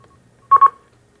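Two quick telephone keypad tones beep one after the other on a call-in phone line, clear and alone against a quiet background.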